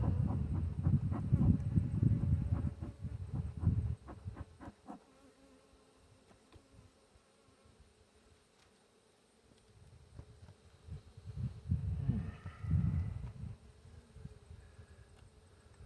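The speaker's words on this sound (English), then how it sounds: "I got some bees angry with me." A dense, loud buzz of many agitated honey bees close by at an open Layens hive during a hive check, fading for a few seconds, then swelling back up.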